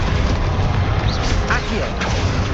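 A booming Bombarda blast spell in Hogwarts Legacy during the final boss fight, a loud, dense rumble with combat noise and a voice briefly heard over it.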